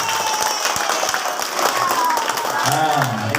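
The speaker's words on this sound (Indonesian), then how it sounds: "Beri tepuk tangan." Children applaud at a primary school Isra' Mi'raj celebration, broadband clapping running steadily throughout with voices and shouts mixed in near the end.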